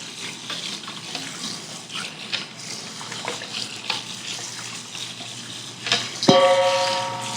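Raw oxtail is washed in water in a pan, giving sloshing and splashing, then a tap runs in a steady, louder gush near the end, close by with no talking.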